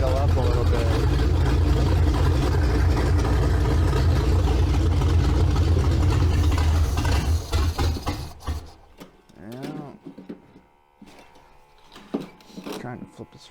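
A Ford Ranger with a swapped 302 V8 idles roughly and loud for about eight seconds, then cuts out abruptly, leaving quiet room noise and someone speaking briefly.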